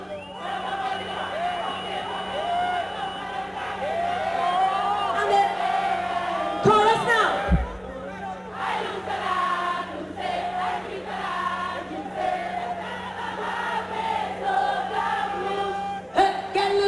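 A packed concert crowd at a show during Carnival fills the space with loud, continuous cheering, whooping and chanting, many voices shouting together with swelling peaks.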